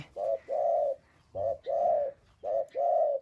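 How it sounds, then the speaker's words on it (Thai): A caged wild-caught mountain dove gives loud, close, repeated cooing calls in three paired phrases, each a short note followed by a longer one, with quiet gaps between. "นี่คารม โอ้คารมนี่ก็เสียงใหญ่"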